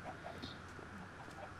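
Chickens clucking in a survival video game, a few soft, scattered clucks and calls over a steady ambient bed, fairly quiet throughout.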